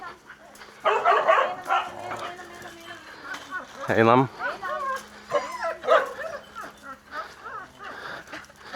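A dog gives a short burst of barking and yelping amid people talking nearby, with one loud bark standing out in the middle.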